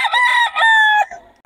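A rooster from Pangasinan crows at a market, a loud, close, drawn-out call in two rising and sustained parts that trails off, alone without talk.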